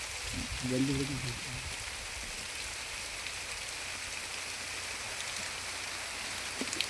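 Rain pours outside a rocky hill cave as a constant broad wash of noise, with a short snatch of human voice near the start and faint drips or taps toward the end.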